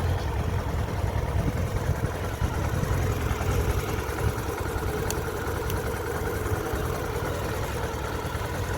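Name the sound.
Kawasaki motorcycle engine idling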